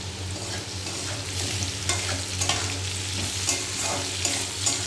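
Food fries in a pan while it is stirred after turmeric powder goes in. A steady close sizzle runs throughout, with repeated scraping strokes of the stirring utensil and no voices.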